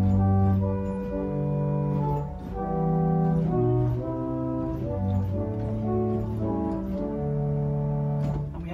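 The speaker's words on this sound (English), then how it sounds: "we have a Geigen diapason," A Willis pipe organ sounds its Geigen diapason stop in a church, a sequence of sustained, moderately soft chords and shifting notes played alone with no talking.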